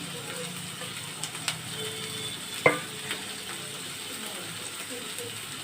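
Chopped onion and green chillies fry in a pan for stuffed mirchi vada, a steady soft sizzle broken by a few clicks and one sharp metallic clink of a spoon against the pan.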